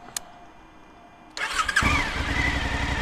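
Suzuki V-Strom 1050 motorcycle, 2023 model, started with the smart start button: a brief click, then the starter cranks and the engine catches into a loud, steady idle, heard up close from the rider's seat.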